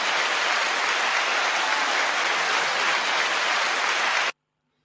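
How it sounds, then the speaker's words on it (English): Crowd applause honouring a young footballer named Cephas, a dense, steady wash of many hands clapping at close range for about four seconds before stopping abruptly. "Cephas. Clap him."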